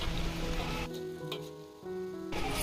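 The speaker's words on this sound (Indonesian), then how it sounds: "Untuk menggoreng jengkolnya nggak usah terlalu kering ya" Jengkol pieces frying in hot oil in a wok, a loud steady close sizzle with a brief dip as the pieces are stirred, then full crackling again.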